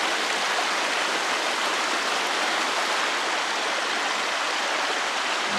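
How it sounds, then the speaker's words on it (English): Davis Creek in the Oregon Cascades rushes along in a steady, close, dense babble of flowing water, unbroken and fairly loud throughout with no talking. "This is called Davis Creek."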